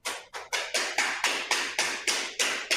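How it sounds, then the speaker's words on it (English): Vinyl flooring planks being knocked into place, ten sharp evenly spaced taps in a quick steady rhythm, close and fairly loud with no voices. "You just want to keep knocking until you get a nice tight joint."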